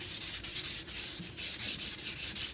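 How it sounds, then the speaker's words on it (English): Hand block sanding of a car body panel, with sandpaper rasping in quick, even back-and-forth strokes, close and clear with no talk. "So you're basically just sanding these little spots."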